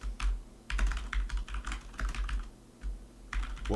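Steady bursts of typing on a computer keyboard, close and clear, with clusters of key clicks broken by brief pauses and no talk.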